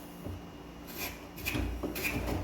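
A spokeshave pares a curved wooden workpiece held in a vise, giving a few short, soft scraping strokes at close range, fairly quiet.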